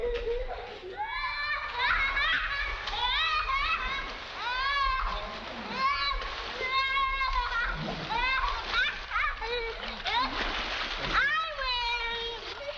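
Children shout and splash while swimming in water, with continuous excited voices and scattered splashes from a 1938 film, close and lively throughout.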